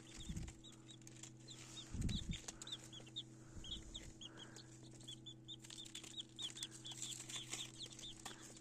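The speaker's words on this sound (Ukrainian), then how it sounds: "Ось такі осінньо-зимові курчатки" Chickens on a farm cluck and peep in short repeated calls, with a couple of bursts of flapping wings. A low steady hum runs underneath throughout.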